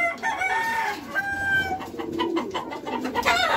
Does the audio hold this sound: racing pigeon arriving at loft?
yes